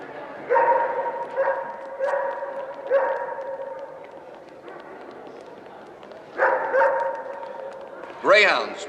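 Several dogs bark at an indoor dog show, short repeated bursts of barking in clusters with pauses between, followed by a rising whine near the end, moderately close over a quiet room.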